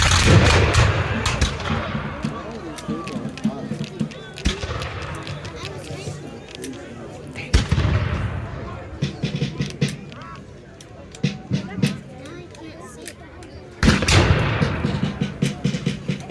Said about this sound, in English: Their fire met by return.